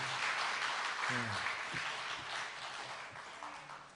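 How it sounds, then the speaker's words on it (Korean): A church congregation applauds an elder during a Sunday worship service, a steady wash of clapping filling the room while a voice briefly speaks over it. "박수가 길어서 감사합니다"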